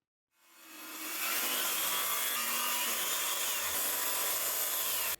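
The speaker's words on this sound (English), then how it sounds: "I ended up just using the spatula to take off the excess" A spatula scrapes excess material off the edge of a teak cutting board, giving a steady, close, continuous rasping scrape that holds level for about five seconds.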